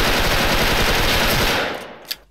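Sustained, loud, rapid automatic M4 rifle fire in the online shooter Special Force, a dense unbroken burst that cuts off near the end, followed by one short sharp report.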